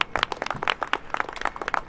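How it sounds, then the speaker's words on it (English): A small audience applauds at a televised Australian football show in the Queensland hub, with brisk, fairly close clapping continuing steadily through the short stretch. "Let's give them a round of applause."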